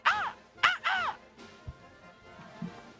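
A voice imitates a crow's caw, three harsh, loud calls in quick succession, followed by faint background noise.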